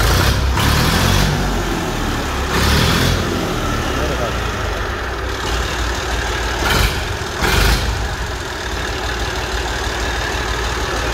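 A new Massey Ferguson 2400 tractor from Millat, shown at a dealer in Multan, idles nearby with a steady, dense diesel rumble, while someone talks over it and a few brighter bursts of noise break in.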